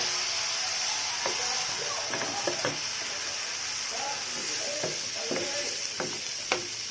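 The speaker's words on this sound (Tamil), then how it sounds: "அடுத்தது நம்ம வெங்காயம் போடலாம். பொம்பே ஆனியன். ஸோ அது போட்டு தாளிப்போம்." Bombay onions sizzle steadily as they sauté in hot oil, a continuous frying hiss broken by a few sharp clicks and taps from stirring, close and moderately loud with no talk.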